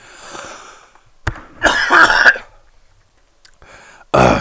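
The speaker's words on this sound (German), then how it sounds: "musste gerade mega husten" A person coughs hard in several loud, close bursts separated by short pauses, with a brief breath between fits.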